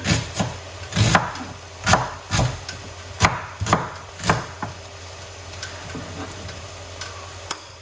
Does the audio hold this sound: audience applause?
no